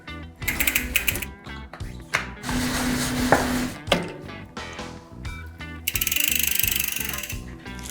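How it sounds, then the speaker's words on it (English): A bicycle's back wheel is reinstalled on a stand with a Cascade Components Reign link: clicking freehub ratchet spins, metallic clanks and rattles, and a sustained whirring spin, close and loud with no talk. "we'll get the back wheel reinstalled"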